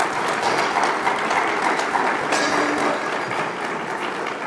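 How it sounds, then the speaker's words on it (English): An audience at a bar leaders' recognition luncheon gives a round of applause, a dense sustained clatter of many hands that fades slightly toward the end. "Let's give them another round of applause."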